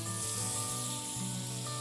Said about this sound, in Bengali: ডিমের ডালনার জন্য ফুলকপিটাও আমি ভেজে নেব।